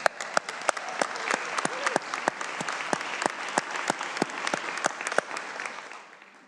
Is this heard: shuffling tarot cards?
no